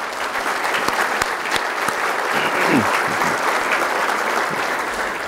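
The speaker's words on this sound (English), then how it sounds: "Let's give them a round of applause." A crowd claps steadily at an athletics Hall of Fame induction ceremony, a thick, continuous wash of applause from many hands that holds at an even level throughout.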